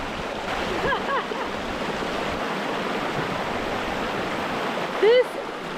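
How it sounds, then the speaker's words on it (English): Continuous rushing creek water, a steady broadband flow close by, with a couple of brief high bird chirps over it. "Can you hear that? That's the sound of water,"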